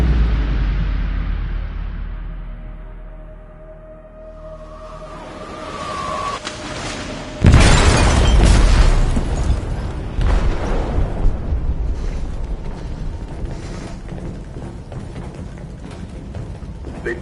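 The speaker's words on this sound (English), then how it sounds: "They detonated an explosive in the hold." A loud explosive detonation in the hold of a ship in Detroit: Become Human, a sudden heavy blast after a quiet build-up, followed by long rumbling debris and crackling that slowly tails off.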